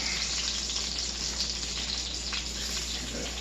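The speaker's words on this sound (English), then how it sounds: "You can hear that butter sizzling." A steady, crackling sizzle of butter frying in a hot cast iron pan, close and continuous without pause.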